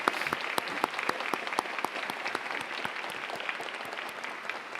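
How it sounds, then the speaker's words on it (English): Moderate audience applause at a university commencement, with distinct individual claps standing out sharply over a softer bed of many hands, steady and fairly close. "Please give them a round of applause."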